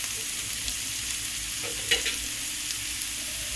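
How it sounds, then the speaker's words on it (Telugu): Onions fry in oil in a pan for bendakaya pulusu, giving a steady close sizzle with a brief stirring scrape near the middle and no speech. "ఆనియన్స్ వేగుతూ ఉన్నాయి కదా"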